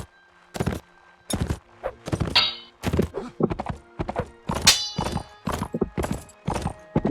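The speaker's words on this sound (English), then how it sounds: "my horse running into them does do damage." Hooves of a galloping horse in Mount and Blade Warband, loud rhythmic clip-clop thuds in quick bursts with a brief whinny and metallic clanks of combat mixed in.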